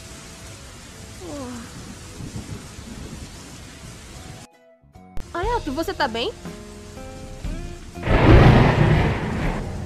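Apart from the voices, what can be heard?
thunderstorm with rain and thunder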